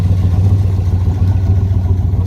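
A 1966 Corvette L72 427 roadster running through side exhaust, a deep, steady low rumble with an even throb, loud and close, with no voices.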